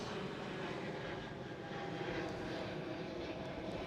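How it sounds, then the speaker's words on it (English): A KLM Cityhopper Embraer E195-E2 regional jet at Amsterdam Schiphol gives off a steady, fairly loud broadband engine roar that holds evenly throughout, with no speech. "That was KLM Cityhopper E195E2"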